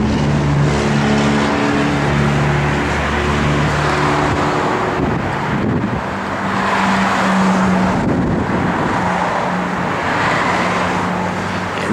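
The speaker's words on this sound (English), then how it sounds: "And this car sounds good, man. I mean, it's got a comp cam in it." A 1969 Chevrolet Camaro SS with a Comp Cams camshaft idles loudly up close, a steady low rumble with a pulsing lope that holds for the whole stretch.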